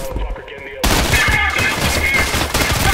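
Gunfire in the first-person shooter Trepang 2, a dense rapid burst of shots starting abruptly after a quieter opening and continuing loud to the end, layered with game effects.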